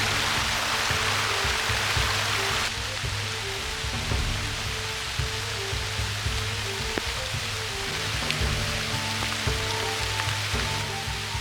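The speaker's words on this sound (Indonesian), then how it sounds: "hujan pun kini kembali turun" Rain pours steadily onto a tropical forest near a shelter, a constant hissing wash with occasional sharper drips and a low tonal hum underneath, unbroken and fairly close for the full length.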